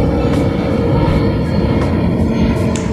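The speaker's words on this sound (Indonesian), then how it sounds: "Wah, ada pesawat lewat nih." An airplane passing overhead on an afternoon outdoors: a loud, steady engine roar with broad rumble fills the whole stretch, with no gaps.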